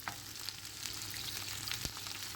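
Oil sizzles and crackles steadily as eggplant fries, with a soft continuous hiss and scattered little pops, close and fairly quiet.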